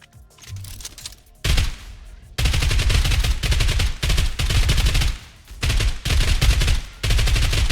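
A nail gun in the video game Cat Warfare fires in loud, rapid bursts of sharp repeated shots, broken by brief pauses.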